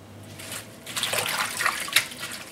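Garlic mustard leaves being rinsed in water give off a steady splashing and trickling that swells after the first second, close and alone with no talk.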